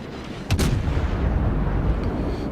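Naval shellfire in the World of Warships video game: one heavy, booming gun blast lands sharply near the half-second mark, then a low rumbling roar rolls on and fades steadily, with no voices.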